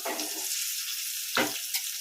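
A couple of pinches of curry leaves dropped into hot oil with crispy vadai for thayir vadai, giving a short, close crackling sizzle with a sharper burst of spitting near the end.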